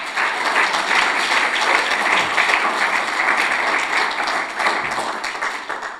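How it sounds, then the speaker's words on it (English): An audience applauds for Andrea, a vice president, with steady, loud, dense clapping that fills the whole stretch evenly with no talk over it. "How about a nice round of applause for her?"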